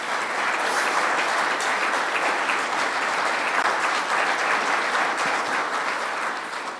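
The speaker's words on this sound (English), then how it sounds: "I hope the applause is appreciated because you're here." Loud, full applause from an aviation safety review audience greeting a pilot who deployed his Cirrus parachute over West Virginia; continuous dense clapping that fades slightly at the end.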